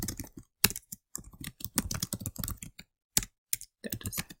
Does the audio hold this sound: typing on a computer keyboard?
yes